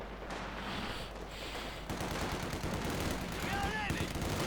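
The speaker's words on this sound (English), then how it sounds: "Machine gun. Oh, the latest Maschinengewehr." Machine gun fire in the World War II strategy game Company of Heroes 2, bursts of rapid shots rattling at moderate distance beneath a commentator's voice, with a rising whine near the end.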